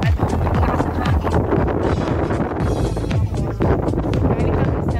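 Strong wind buffets the microphone in loud, continuous gusts, with rumbling and scattered clatter throughout.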